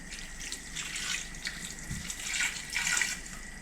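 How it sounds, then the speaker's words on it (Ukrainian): Broth is poured over fried mititei, the Romanian minced-meat rolls of beef or pork, in a pan, giving a soft, uneven trickle and splash of liquid that is fairly faint and unaccompanied by speech. "Тепер до наших підсмажених мідіцій додаю ще трохи бульйону."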